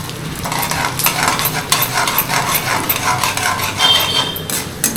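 Mustard seeds, jeera, urad dal, chana dal and groundnuts crackle and sizzle in a pan for upma while a spoon stirs and scrapes steadily and continuously, close and loud.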